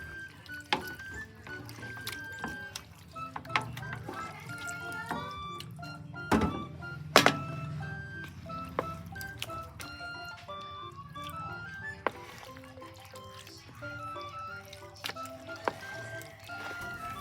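Raw chicken pieces being washed with vinegar in a home kitchen, giving soft wet squishing, dripping and occasional thunks against the bowl, quiet and close, with no talking.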